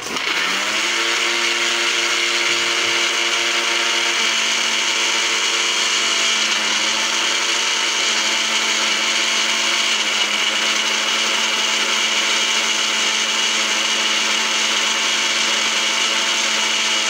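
An electric grinder blends a small batch of sliced pieces with a loud, steady whirring drone that starts at once and runs unbroken throughout, with no voices.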